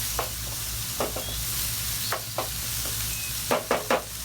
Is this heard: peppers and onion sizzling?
yes